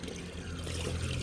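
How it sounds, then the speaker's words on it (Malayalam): Water pours onto a shoe being washed, a brief continuous rush of splashing liquid, close and fairly loud. "ഷൂ കഴുകുന്നു."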